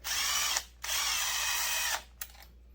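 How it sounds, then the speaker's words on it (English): A power driver runs screws into a bare Husqvarna 372 XP chainsaw cylinder in two close, whirring bursts, the second longer, each ending as the screw snugs down. "we're gonna throw a couple of screws in this cylinder with nothing on it, just snug it down"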